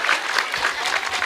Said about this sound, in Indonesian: Tepuk tangan disit loh.